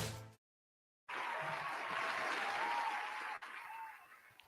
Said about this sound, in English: I think I need more enthusiastic cheering.